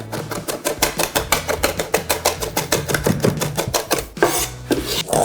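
Herbs being chopped together with smoked Maldon salt and a little oil, a fast steady run of sharp knife taps on a board, close and loud with no talk.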